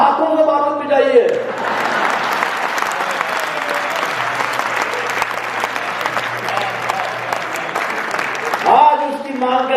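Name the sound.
audience applauding a poet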